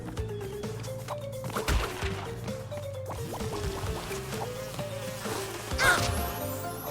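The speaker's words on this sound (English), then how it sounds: "Those bees are hardcore?" Swarming bees buzz loudly and continuously in Crash Bandicoot 2: Cortex Strikes Back from the N. Sane Trilogy, with a wavering drone over game music and occasional impact thuds.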